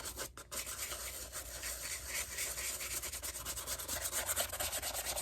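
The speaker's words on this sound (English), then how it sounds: "the scrubbing is going to be mainly on the leather and the fabric" Steady scrubbing brushes over the leather and fabric of a Gucci bag during cleaning, a close, continuous rasping rub with no talking.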